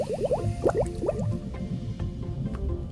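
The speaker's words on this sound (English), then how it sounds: "and blow bubbles out." Bubbles blown out underwater, a quick run of bubbly, popping blips in the first second, then a softer, continuous gurgling wash.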